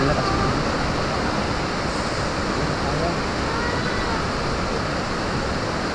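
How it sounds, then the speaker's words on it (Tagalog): Very heavy rain falls in a steady, dense roar during stormy weather, loud and unbroken throughout, with no voices or other distinct sounds standing out. "Grabe lakas ng ulan kasi dito."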